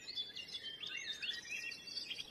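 Small birds chirp and twitter without stopping, in quick high notes close by. The sound is fairly soft and nobody talks over it.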